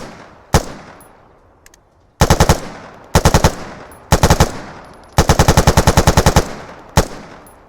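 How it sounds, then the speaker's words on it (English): Loud, close gunfire from the NIArms weapons mod in a video game: a single shot, then repeated bursts of rapid automatic machine-gun fire separated by short pauses, ending with one last sharp shot, with no talking. "Gunshot audio overhaul, and we're about to get a sample of it in a second."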